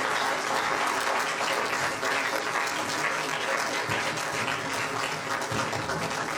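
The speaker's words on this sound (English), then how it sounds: "It is standing ovation for the guest lecturer of today." A lecture audience at a university entrepreneurship event gives a standing ovation, steady clapping spread across the hall at moderate level, with some voices mixed in underneath.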